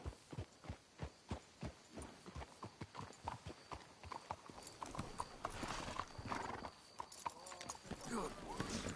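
Rhythmic clip-clop of horse hooves in Red Dead Redemption 2, steady and close, with a horse whinnying and other game sounds building underneath in the second half.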